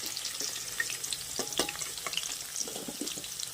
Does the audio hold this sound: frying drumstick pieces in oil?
yes